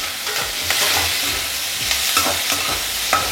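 Ginger, garlic and green chillies sautéing in a pan, with a steady close sizzle and repeated scraping stirs of a spoon, no talking.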